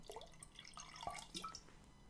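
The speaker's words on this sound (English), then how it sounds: "In fact, I should probably put a bit more tonic" Fever Tree tonic is poured into a glass of gin, giving a faint, quiet trickle with fizzy drips and small splashes for about two seconds.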